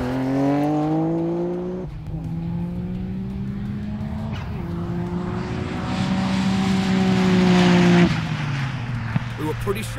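An E85-fuelled Nissan GT-R launches down a drag strip, its engine roaring and climbing in pitch through several sharp gear changes before easing off, loud and close.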